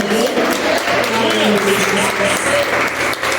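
Congregation applauding during a church service, loud continuous clapping mixed with voices and cheering in a reverberant hall.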